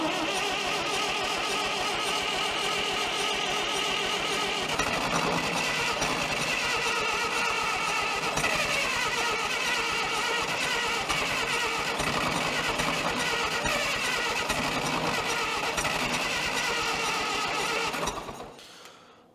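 A CAT Towmotor forklift that had sat unused for years cranks steadily on its starter motor, a loud continuous grinding churn for about eighteen seconds with no catch, then cutting off abruptly.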